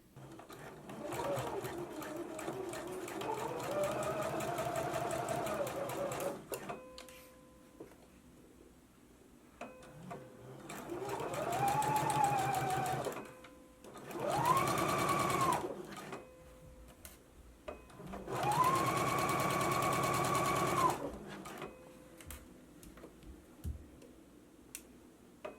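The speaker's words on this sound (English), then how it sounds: "After it's pinned, you can go ahead and stitch it at a 5/8 of an inch seam allowance." A domestic sewing machine stitches a shoulder seam on a McCall's 8001 garment, with several separate bursts of rapid, steady mechanical chatter at close range and quieter ticking between runs.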